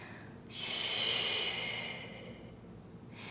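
A long, audible exhale during a Pilates exercise with a small ball: a close, breathy rush of air that fades out, followed by the start of another breath.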